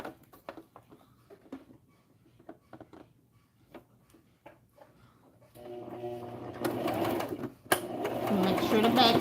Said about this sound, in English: now we're going to take it to the sewing machine and sew a straight stitch going down here.